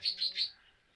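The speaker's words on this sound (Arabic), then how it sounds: "داك الذكر ديال كالوبسيت اللهم بارك هايج" A male cockatiel in a cage gives three quick, bright chirping calls in a row. They are close and fairly clear, and the clip goes quiet after them.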